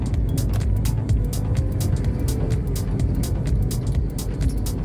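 A Handoyo bus passes on a busy road, its steady low rumble and road roar continuing through the whole stretch with repeated sharp rattling clicks over it.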